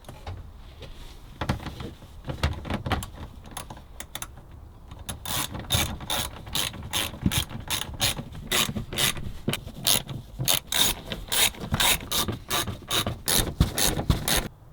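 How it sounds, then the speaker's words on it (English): Rapid ratchet clicks from a ratchet wrench with a 9/16 socket tightening bolts on the connection points of a Mule Bag 2.0 install, coming in short bursts and then steadier repeated runs of sharp, close ticking with no talk. "We're using a ratchet with a 9/16 socket."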